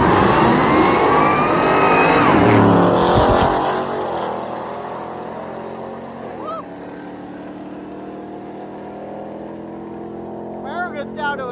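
A Chevrolet Camaro and a TRX truck on slicks launching down a drag strip: a loud engine roar that builds, peaks, then fades into the distance, with voices faintly in the background.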